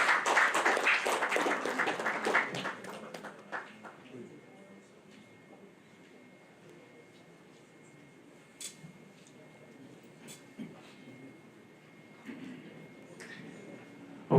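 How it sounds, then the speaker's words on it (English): Audience applause for Dr. Stephen Akintayo at a real estate book launch and dinner: loud, dense clapping at first that thins out into scattered claps and fades within a few seconds. "Ladies and gentlemen, once again, please, a round of applause to Dr. Stephen Akintayo."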